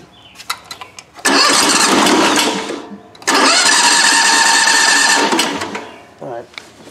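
A replacement engine on a Grasshopper 718 zero turn mower is cranked twice. Each time it catches and runs loudly for a couple of seconds before dying away.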